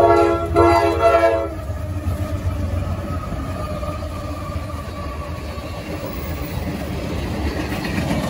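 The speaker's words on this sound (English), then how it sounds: "here comes the train." A freight or passenger train passes close by, opening with a loud horn blast over rumbling wheels, then a steady, sustained roar of rail cars rolling past with faint clatter.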